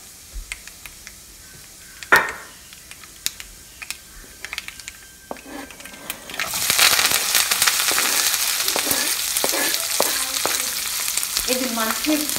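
Onions and chillies frying in a pan: quiet at first with scattered clicks and taps of a utensil, then a sudden loud, dense sizzle takes over and holds steady to the end, close by with no voices.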